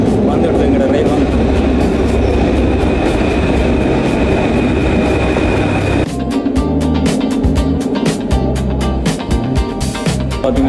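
Paris metro train pulls into an underground platform: a loud, steady rumble and roar with a high whine, then a shift to rattling, clattering carriage noise as it slows close by, with a person speaking over it.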